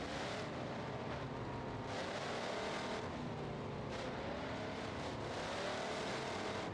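A car engine in a racing video game roars steadily and loudly throughout, a dense, continuous drone with slight surges in pitch and no speech over it.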